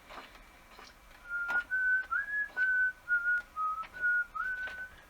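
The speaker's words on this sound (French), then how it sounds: "Ça vous embête pas si je sifflote?" A person hums along in whistled form, a light melodic tune of short and held notes, clear and close in a quiet room while drawing, with faint scratchy sounds of pen work in the background.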